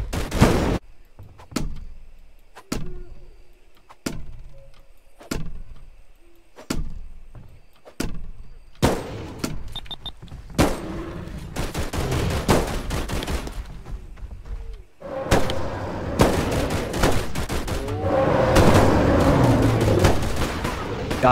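Gunfire in the video game Bigfoot, a series of sharp separate shots at a steady spacing that build into denser rapid bursts and rumbling noise, with players talking over it.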